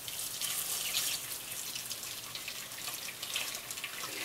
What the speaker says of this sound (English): take your blended milk and dump it through the bag